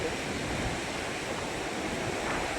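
Sea waves wash onto the shore at RK Beach with a steady, unbroken roar of surf. The sound is dense and wind-like and stays even throughout.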